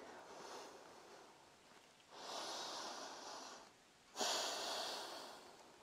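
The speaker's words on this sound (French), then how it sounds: "Une belle respiration ici." Slow, deep breaths during a yoga session, three long audible inhales and exhales in steady rhythm, close and soft with no talking.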